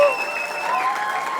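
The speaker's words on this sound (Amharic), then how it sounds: "ባካችሁ አጨብጭቡ።" Audience applause rises at a talk show, a steady, close wash of clapping that carries on without a break.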